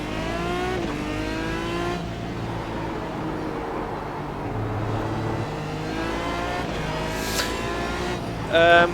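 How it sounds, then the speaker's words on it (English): An Aston Martin DBR9 GT1 V12 engine howls through the gears in iRacing at the Nürburgring, smooth high-pitched revs rising and falling, with a short tire squeal near the end. "Love this V12 sound."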